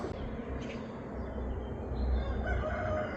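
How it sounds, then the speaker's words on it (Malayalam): A rooster crows outdoors near a guesthouse, a single distant call rising briefly above a steady low background rumble. "കോഴി കൂവുന്ന സൗണ്ടൊക്കെ ഉണ്ട്"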